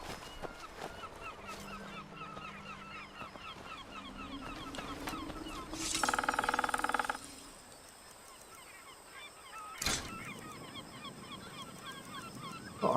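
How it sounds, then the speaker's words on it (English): Goose-like honking bird calls, taken here as seagulls, ring out in the Skyrim video game among other in-game sounds, with a louder burst of calls in the middle and a sharp sound near the end. "Oh, I can hear seagulls."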